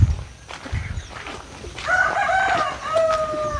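Native country chickens and a rooster on a village farm: the rooster crows loudly and clearly midway, over a background of clucking and farmyard noise.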